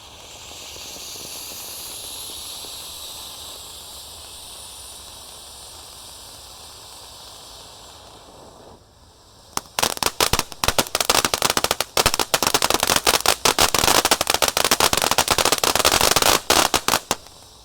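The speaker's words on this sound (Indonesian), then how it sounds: "Lanjut yang kita nyalakan, di sini ada Fantastic Fountain" A Fantastic Fountain firework, lit at night, hisses steadily for several seconds, then bursts into loud, dense, rapid crackling that continues until near the end.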